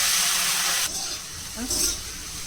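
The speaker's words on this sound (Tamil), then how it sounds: "நான் இப்படி வெங்காயம் எண்ணெயில் படுற மாதிரி வெங்காயம், பச்சை மிளகா, கருவேப்பிலை அப்படி போட்டுட்டு" Onion, green chili and curry leaves dropped into hot oil, a loud bright hiss that rises and falls in bursts, fairly close. No one talks over it.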